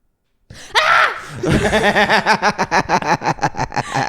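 A person imitates another person's scream in a podcast studio: a short strained cry, then a run of rapid, pulsing high-pitched shrieks that grow choppy toward the end, loud and close to the microphone.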